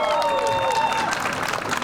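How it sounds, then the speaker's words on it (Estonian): Audience applause at an award ceremony for Estonia's best bus driver competition in Tallinn, a dense steady clapping wash with some cheering layered over it, loud and sustained throughout. "Aplaus."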